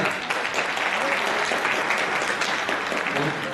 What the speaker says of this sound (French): Donc, il faut l'applaudir.